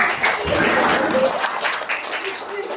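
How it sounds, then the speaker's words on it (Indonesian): Children and adults clapping together in a mushola prayer room, a brief ragged round of applause at moderate level with voices mixed in. "Nah, tepuk tangan dong."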